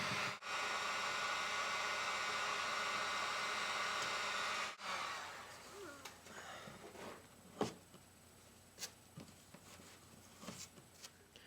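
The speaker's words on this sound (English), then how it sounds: "I'm going to use the heat gun on a low setting so I don't scorch any wood" A heat gun on a low setting warms hot glue under an old baritone ukulele nut, a steady airy blowing roar for several seconds, then quieter scattered taps and scrapes as the nut is pried.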